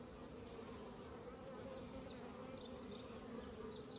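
Honeybees buzz steadily and densely as they fly off a hive frame while two deep hives are combined, a close, continuous insect drone with no talk.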